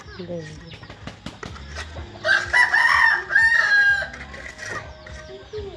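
A rooster crows loudly and close by, a long drawn-out call in the middle, with scattered clucks from chickens around it and bits of talk in between.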